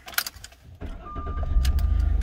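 A 2002 Jaguar X-Type AWD in British Racing Green cranks and fires up after a light jangle of keys, settling into a steady close idle with a low rumble.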